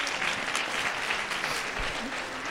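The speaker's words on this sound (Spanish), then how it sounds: "pues le damos un aplauso" Audience applause for a doctor after his talk at a conference, a steady wash of many hands clapping at a moderate level, heard from within the room.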